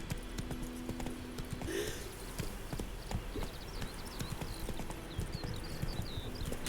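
Hooves of the horse Roach clip-clop at a gallop in The Witcher 3, a quick, steady rhythm of soft thuds under faint game ambience with a brief whinny-like sound partway through.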